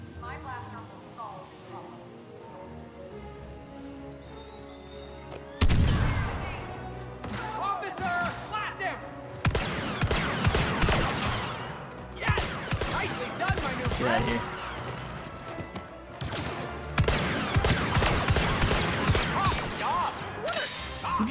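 Blaster fire and impacts from a Star Wars Battlefront 2 match crackle in sharp, irregular bursts with music and effects, while players talk over the action.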